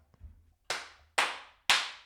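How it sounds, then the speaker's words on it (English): Three sharp, close hand claps in a quiet room, used to sync audio for a podcast, evenly spaced about half a second apart after a faint murmur. "Clap."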